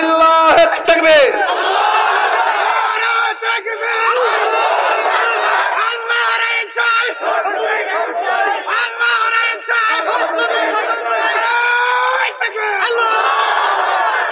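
A large crowd at a Bangladeshi Islamic religious gathering roars a loud, sustained takbir chant in unison, with massed shouting voices that fill the space.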